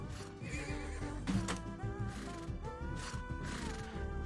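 Horses neigh in the arcade game Tasty Planet: Back for Seconds with several shrill whinnies over clattering hooves and busy game noise, all fairly faint and without speech.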